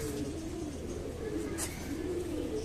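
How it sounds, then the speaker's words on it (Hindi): Bajra breed pigeon cooing softly in low, rolling phrases that repeat over a steady murmur, fairly close, with no talk. "ये बाजरा कबूतर है मेरे भाई।"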